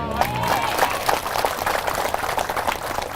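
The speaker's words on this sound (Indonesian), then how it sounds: "Jangan tepuk tangan dulu." Audience applause during an Islamic lecture, a dense wash of clapping from a large crowd, steady and moderately loud throughout with faint voices mixed in.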